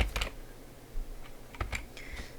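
Computer keyboard typing in a few quick, light clusters of key clicks, close and fairly quiet, alone without talk.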